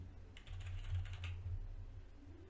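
Keys tapped on a computer keyboard in a short run of soft, quick clicks over a steady low hum, fairly close, with no one speaking.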